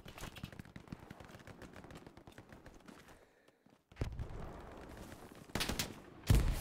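Bursts of rifle and machine-gun fire ring out in the World War II shooter Hell Let Loose, rapid cracks for several seconds, a brief lull, then louder close shots resuming.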